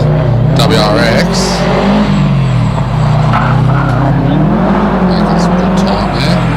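Onboard a Subaru WRX hillclimb race car, the engine drones loud and close, with revs rising and falling through gear changes, and a voice talks over it.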